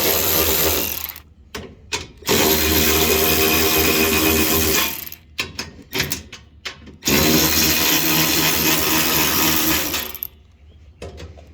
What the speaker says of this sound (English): we're going to go ahead and take off these screws right here